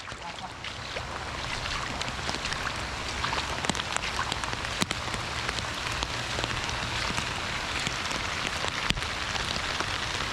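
Heavy rain pours down steadily, a dense hiss of drops drumming on a surface, with occasional sharper taps standing out.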